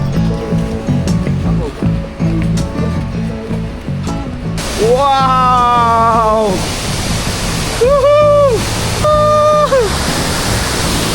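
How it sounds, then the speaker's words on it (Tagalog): Large waterfall in Malinaw, Bicol, with smaller side falls running between rocks, gives a loud steady broadband roar throughout, while people shout excited exclamations over it. "Naririnig ko na dito yung falls."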